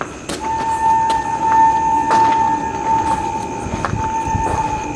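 A train rolls past close by, its steady wheel and engine rumble loud throughout, with a sustained horn tone running across most of the pass.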